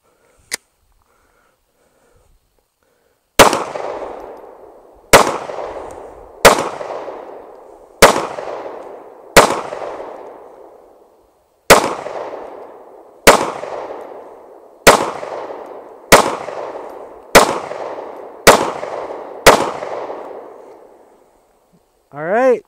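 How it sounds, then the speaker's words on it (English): Gunshots from an S&W M&P9 Compact 9mm pistol fired outdoors during a reliability test: eleven loud, sharp reports after one faint click, in two groups of about one shot per second, each ringing off briefly. "mainly this is to get rounds through the gun and make sure that it performs reliably before I move on to accuracy"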